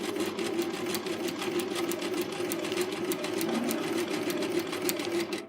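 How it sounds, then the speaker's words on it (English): Sewing machine stitching a zigzag in a reverse appliqué project, running steadily and close with a continuous whirring hum and rapid rhythmic needle ticking, alone without talk. "the needle is going to go from side to side and along the line"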